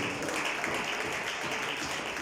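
A church congregation applauds together, a dense, steady wash of many hands clapping at moderate volume throughout.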